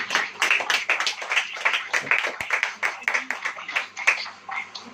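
Congregation at a church service clapping together, a steady run of sharp hand claps throughout with some voices mixed in.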